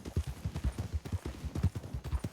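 Horse hooves clip-clopping at a steady trot in Red Dead Redemption 2, the rhythmic low thuds close and continuous across the stretch with no talking over them.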